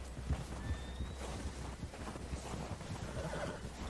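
A horse in the Red Dead Redemption 2 game world near a lake whinnies over a steady clip-clop of hooves, fairly faint, with a fluttering neigh early on and continuing hoof steps throughout.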